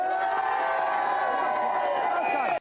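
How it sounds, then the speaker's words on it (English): A studio audience on a 1990s Gamesmaster team championship game show cheers loudly and continuously, a dense crowd roar with whoops and shouts that cuts off abruptly at the end. "Let's give all our contestants a cheer, team."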